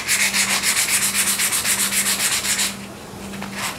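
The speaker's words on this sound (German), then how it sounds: "So, wir schleifen jetzt die zu klebende Fläche an." Hand sanding of a fiberglass (GFK) vehicle part to prepare its surface for bonding, in a cross-hatch pattern; quick rhythmic rasping strokes repeat steadily up close, then pause briefly before resuming, with no speech.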